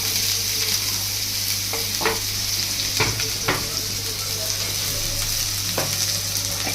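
Garlic and onion frying together in a pan, a steady bright sizzle throughout with a few clinks and scrapes of stirring, close and alone.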